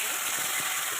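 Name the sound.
tomato poured into hot oil sizzling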